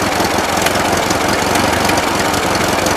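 A 1941 Ford 9N tractor engine runs steadily near the microphone, a continuous rumbling chug with a faint knocking texture and no pauses.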